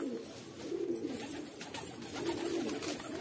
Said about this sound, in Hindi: इन्हें दाना देते हैं अपने कबूतरों को